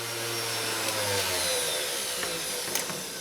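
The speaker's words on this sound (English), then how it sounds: "Set the Dremel down, make sure it's stopped." A Dremel rotary tool grinding the blades of dog nail clippers, a steady high whirring buzz that fades slightly as it winds down, close and alone.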